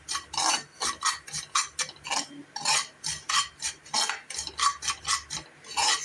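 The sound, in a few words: stirring ragi and nuts while dry roasting in a pan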